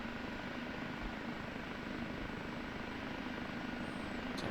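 An OH-58D Kiowa Warrior helicopter in the DCS flight simulator spools up for takeoff, its steady turbine and rotor roar loud and continuous with no talk over it.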